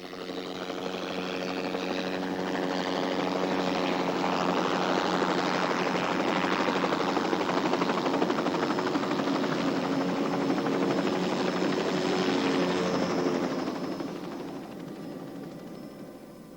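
A helicopter drones steadily with a loud, whirring rotor roar that swells and holds for a long stretch before easing off at the end, flying over the North Johnson River area.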